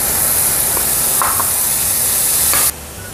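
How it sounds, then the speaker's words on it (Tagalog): Garlic sautéing in hot cooking oil for a Filipino mango-bagoong dish, a steady loud sizzle and hiss with a few brief stirring scrapes, no talking, dropping slightly softer near the end. "At kapag mainit ng ating mantika, ilagay na natin ang ating garlic."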